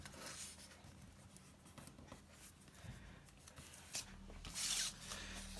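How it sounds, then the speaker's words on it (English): Wallpaper is folded along a crease, with soft continuous rubbing and scraping of the paper close up and a brief louder crinkle near the end. "I'm going to continue that fold right the way to the edge"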